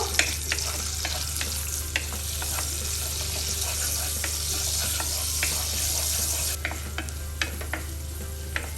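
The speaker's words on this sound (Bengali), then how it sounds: "এখন আমি একটু নাড়াচাড়া দিব" Chopped onions are stirred while frying for a prawn and water spinach stir-fry, a constant hiss of sizzling oil with regular sharp spatula scrapes and taps against the pan, near and steady, with no voices.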